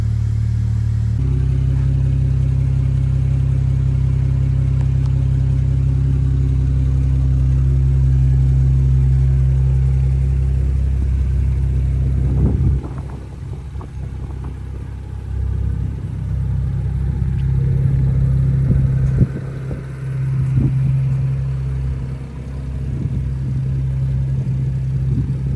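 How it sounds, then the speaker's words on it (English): A BMW with an N55 engine and Pure500 turbo is out on a test drive. The engine hums steadily and loudly at first, then rises and falls with acceleration under road noise, and no one speaks. "we will go ahead and take this thing for a test drive"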